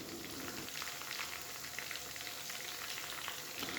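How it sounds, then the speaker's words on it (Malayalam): Chicken pieces frying in oil over a medium flame, giving a steady, close, even sizzle and crackle that runs throughout with no talking. "അപ്പോൾ രണ്ടാമത് ഫ്രൈ ചെയ്യാനായിട്ട് ഇട്ട് കൊടുത്ത പീസസ് മീഡിയം ഫ്ലെയിമിലിരുന്ന് അങ്ങനെ ഫ്രൈ ആയിട്ട്"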